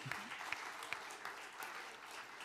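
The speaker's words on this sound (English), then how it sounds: "Yeah, you can applaud." Faint, thin applause from an audience at a political conference discussion on progressive Europe, scattered claps with a few sharper hits, distant and fairly quiet.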